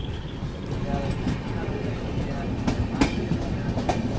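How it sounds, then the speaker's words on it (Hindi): Mandovi Express train pulling out of Madure station, a steady loud rumble of rolling carriages with rhythmic wheel clatter over rail joints and occasional sharper clanks close by. "हमें सिग्नल दे दिया गया और हमारा डिपार्चर हो रहा है मडुरै स्टेशन से।"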